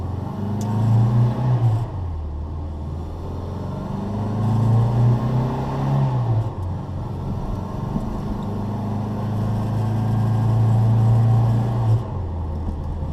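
A classic Morris Mini with a 998 engine runs steadily on a test drive, a continuous low engine drone with gentle rises in pitch as it accelerates and eases off, loud and close throughout.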